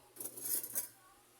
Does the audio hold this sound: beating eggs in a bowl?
yes